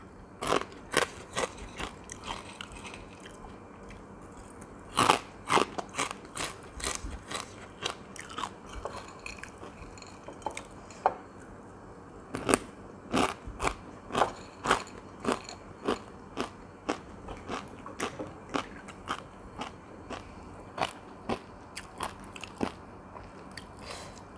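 Crunchy pickled cabbage being bitten and chewed close up, a long run of sharp, crisp crunches in an uneven rhythm, some louder snaps standing out over quiet between bites.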